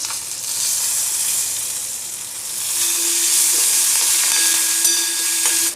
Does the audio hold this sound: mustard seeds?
yes